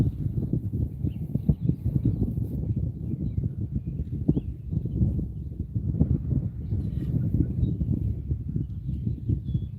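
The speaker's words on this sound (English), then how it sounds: "Wind is making this not a lot of fun" Wind gusting steadily outdoors at a model rocket test site, a loud low rumble of buffeting across the open field that persists through the whole stretch with a few brief knocks.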